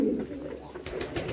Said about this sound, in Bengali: আমাদের এদিকে মাক্সি কবুতরটা দেখেন